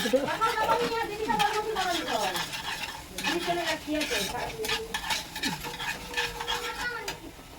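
Panch phoron spices and two chillies frying in a pan for a vegetable chorchori, with steady sizzling, stirring scrapes and pan clatter throughout while a person talks over it.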